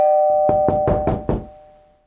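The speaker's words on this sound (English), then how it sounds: "rang the doorbell and knocked really hard" Five hard knocks on a front door come in quick succession over a steady tone from a ringing doorbell, close and loud in an audio drama scene.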